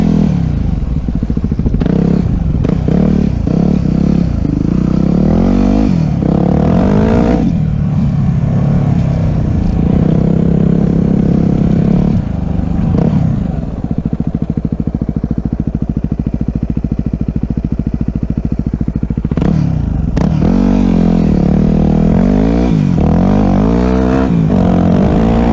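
Motorcycle on Dunlop D606 tires ridden on street and dirt, engine loud and close throughout with revving, shifting and rising and falling pitch, tires and gear clattering over rough ground.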